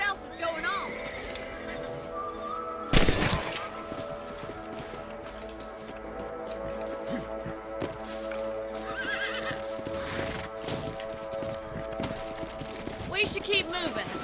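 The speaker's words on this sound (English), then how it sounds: "Let's get back on the horses" Horses in the Red Dead Redemption video game neigh and whinny with clip-clop hoofbeats, set against a busy game soundscape of music and ambience and with voices talking throughout.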